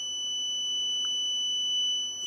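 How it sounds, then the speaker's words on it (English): A temperature alarm buzzer on an STM32 Nucleo board sounds continuously, a steady high-pitched tone holding without a break over a faint background hiss, with no one talking. "the buzzer will just carry on going off as well, for as long as that remains above 30."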